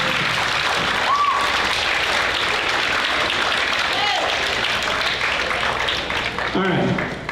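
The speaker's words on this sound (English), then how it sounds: "Students, give your parents a round of applause, please." Applause from the audience at a middle school band concert fills the whole clip, a dense, steady clapping that stays loud throughout and thins only slightly at the very end.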